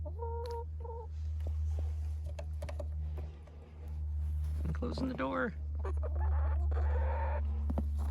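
Hens clucking softly in short bursts near a person speaking, with a low steady hum underneath and a door being moved.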